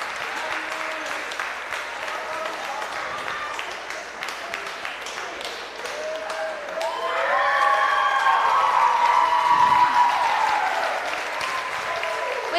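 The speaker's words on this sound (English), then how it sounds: "Please give them another big round of applause." Applause for contestants at a high school senior variety show: steady clapping from a large audience that swells with cheering and whoops midway, filling the room throughout.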